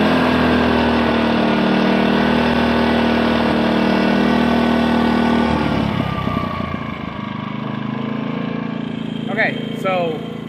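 A GENKINS inverter generator running loud and close with a steady droning tone that shifts pitch partway through as the engine speed changes, then settles into a rougher rumble with brief higher whines near the end.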